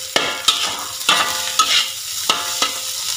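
Nasi goreng is stir-fried in a pan, with a steady close sizzle broken by four or five sharp scraping strokes of a spatula at uneven intervals and no talking.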